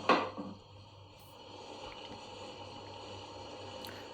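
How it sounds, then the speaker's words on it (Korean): Homemade soy sauce poured into a cooking dish: a brief liquid splash at the start, then a faint bubbling simmer continuing quietly, no talk. "집간장을 약간 넣어주세요"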